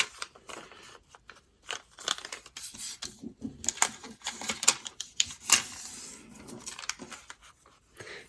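Scissors snip through fabric seam allowances on paper-pieced work, a series of sharp irregular cuts and crisp rustles close up, with no talk.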